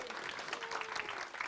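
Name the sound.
applause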